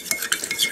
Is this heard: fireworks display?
no